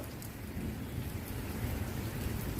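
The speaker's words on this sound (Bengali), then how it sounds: "যাক বৃষ্টি দিয়েই দিনটা শুরু হলো" Steady rain falls outside a house on a rainy Sunday, a dense, continuous hiss with no voices, moderately loud throughout.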